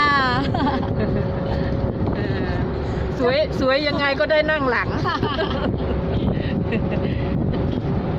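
Wind rushes across a microphone during a ride along a roadside on a cool day, a constant rumbling buffet under a woman's speech.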